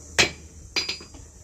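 A forging hammer strikes metal at a smithy during fire-welding work: one sharp ringing blow followed by a quicker cluster of two or three lighter taps, close and fairly faint.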